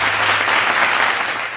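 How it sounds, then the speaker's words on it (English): A dense round of applause from an audience fills the whole moment, steady and fairly loud with no pauses, with no voices heard over it. "We honestly need to give Makoto Shinkai, the director and editor of this film, by the way, and Co-Mix Wave Films, the studio who animated this, a round of applause."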